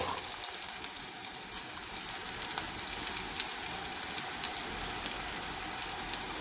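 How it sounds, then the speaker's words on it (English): Ginger garlic paste fries in hot oil in a pan for a dal dish, giving a steady, close, crackling sizzle that stays even and unbroken throughout. "Let's add our ginger garlic. Fry for a few seconds"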